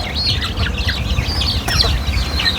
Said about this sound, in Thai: เนาะไก่นี่พูดแล้วนี่